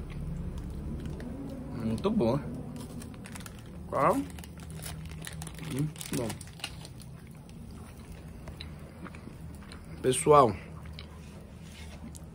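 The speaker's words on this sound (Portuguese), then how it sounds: "Deixa eu dar mais uma mordida." Someone bites into and chews a strawberry chocolate bar in a few separate bursts of crunching and crinkling, with a person talking between bites.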